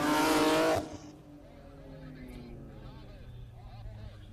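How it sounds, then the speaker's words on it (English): A Chevrolet Camaro on an autocross course gives a loud, close engine roar for under a second, then drops away quickly to a faint, distant hum with some murmuring voices in the background. "Here comes Robin in the Camaro, currently sitting in 7th place in the novice"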